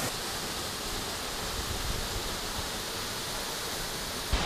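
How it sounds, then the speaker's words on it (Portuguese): A small waterfall near Tilcara, Argentina, pouring as a steady, dense rushing roar that stays even and fairly loud throughout, with no voices. "a gente chegou aqui nessa cascatinha, uma cachoeirinha bonitinha"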